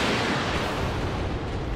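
Mech weapons firing in the BattleTech video game, a dense, loud, roaring blast of gunfire and explosions filling the whole short stretch without a break.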